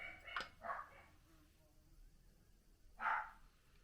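A dog barks a few times at moderate distance: two quick barks, a pause, then one more, with faint background noise.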